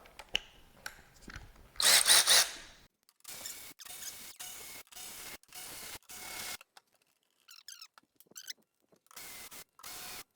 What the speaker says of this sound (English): Let's take the screws out.